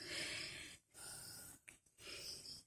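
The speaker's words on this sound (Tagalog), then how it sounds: "Naririnig niyo yung hingal ko." A hiker pants heavily after climbing uphill on a mountain trail. The breathing comes close and loud in long, rough bursts separated by short pauses.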